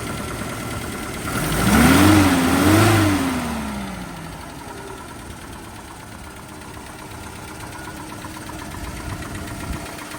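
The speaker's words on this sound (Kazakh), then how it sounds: "Мотордун үнүнү караңыздар" A Volga car engine revs up twice in quick succession, rising and falling loudly, then settles back into a low steady idle.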